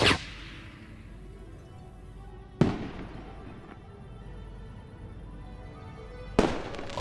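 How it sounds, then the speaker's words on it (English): In the Foolish Mortals video game, fireworks launch and burst three times at spaced intervals, each a sharp crack followed by a long crackling, fading tail, loud and close. "and lit the firework."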